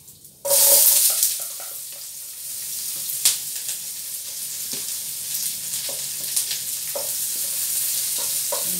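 Onion tossed into hot oil for old-style chicken adobo: a sudden loud sizzling burst that settles into a continuous crackling fry, with occasional stirring scrapes and taps close by.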